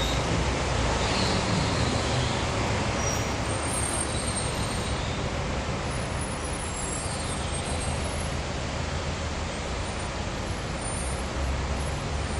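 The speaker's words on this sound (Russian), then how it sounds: "Сейчас еще трамвай остановится." Tram pulling up at a tram stop in a traffic jam on a city street, a steady loud rumble of rail and road traffic throughout with no clear voices.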